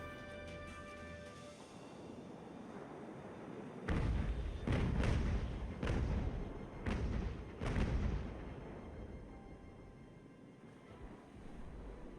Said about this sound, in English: Come on, get those guns firing.